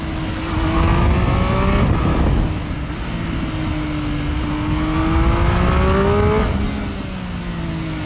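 A Triumph Speed Triple 1050 RS three-cylinder motorcycle revs up loud and close, its engine note rising through two long pulls separated by a brief dip, with wind rush underneath.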